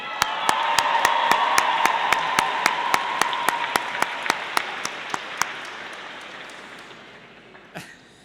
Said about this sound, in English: Will you please applaud them properly?